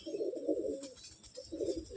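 Cooing from a male black-green pigeon, close by, in two low, throaty bursts with a short pause between them and no talking.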